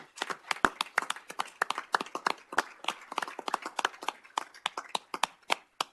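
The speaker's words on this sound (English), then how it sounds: "we want to be sure we'd give a round of applause to all of you for this thing" Sparse, uneven clapping from a small group at a city council meeting, individual hand claps distinct and close, tapering near the end.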